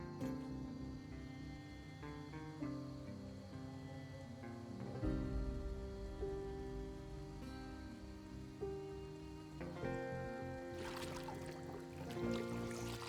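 Steady rain falls in the survival game Project Zomboid near a lake, a continuous soft hiss running beneath layered game music and tones, with no voices.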